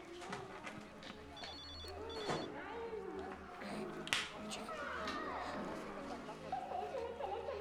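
A telephone rings indoors in short, rapid trilling bursts early on, heard beneath overlapping voices and household chatter that continue throughout.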